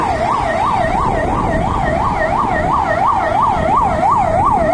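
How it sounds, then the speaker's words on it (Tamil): A loud ambulance siren rises and falls in a steady, rapid cycle over the rumble of Bangalore road traffic, with no voices. "பின்னாடி ஒரு ஆம்புலன்ஸ் வருது."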